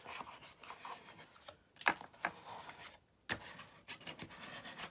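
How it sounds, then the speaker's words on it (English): Folded card of a small gift box is rubbed and burnished into place, soft intermittent scraping strokes with short pauses between them, close and quiet. "So you just manipulate this into place, push it out, and give it a good burnish."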